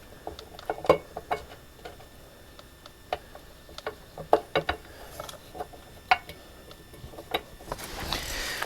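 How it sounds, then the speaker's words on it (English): A hand ratchet from Harbor Freight snugs down the nuts on a wheel bearing cover of a 1976 Mustang skid steer. It gives repeated sharp clicking bursts at an irregular pace, close and fairly loud. "Then we get our Harbor Freight ratchet. We're just gonna snug them down."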